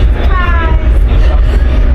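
Inside an Alaska Railroad passenger car riding through winter, a loud steady low rumble of the moving train fills the cabin, with a brief faint squeal of wheels or brakes near the start.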